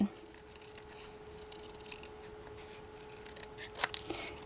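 Scissors snip quietly through paper while following a curvy outline for a window decoration, a soft, steady cutting rustle with a couple of sharper clicks near the end.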